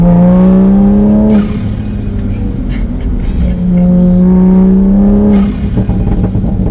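A tuned Toyota A90 Supra on its most aggressive map revs loudly in two long, rising acceleration pulls, heard close from inside the car, with crackles between the pulls.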